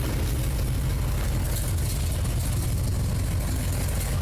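A car engine runs at a steady, rumbling idle, close and unbroken, while its cooling system is flushed with rust remover and the radiator pressure cap is off.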